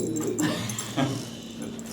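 Dogs whimper and whine softly indoors in a house near suppertime, a few faint high whines rising over a quiet room background.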